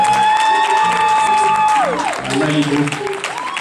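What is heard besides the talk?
audience applause, clapping hands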